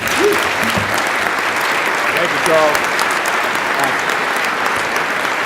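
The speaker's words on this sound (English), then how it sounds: "a big round of applause for the Lowrys" An audience at a keynote address breaks into applause, a dense, steady clapping that sustains throughout, with a speaker's voice briefly heard over it.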